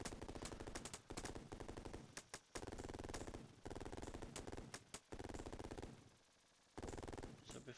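Enemy gunfire in the Sega Genesis helicopter game Urban Strike, loud rapid machine-gun bursts repeating in clusters with brief gaps, then a short quieter pause before firing resumes.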